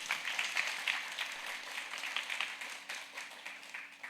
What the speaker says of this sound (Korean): 우리 수고하신 전도사님 박수 한번